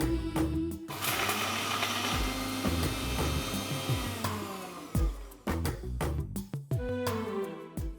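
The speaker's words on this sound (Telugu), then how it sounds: "ముందుగా ఈ మూడుటిని గ్రైండ్ చేసి మెత్తగా పౌడర్లా చేసుకోవాలి." A mixer grinder pulses loudly up close on roasted puffed rice, peanuts and cashews, running in bursts with stops and restarts and a rattly whir that speeds up and cuts out several times, with no voices.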